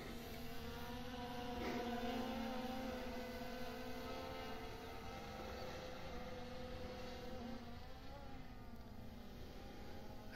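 An SJRC F22S 4K Pro drone flies forward and comes in for an automatic landing, its motors giving a steady, continuous whirring drone with tonal whine throughout, fairly close and alone.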